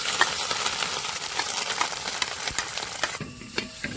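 Grated coconut hitting hot ghee in an uruli, a loud, close, crackling sizzle with stirring scrapes, which quiets abruptly near the end.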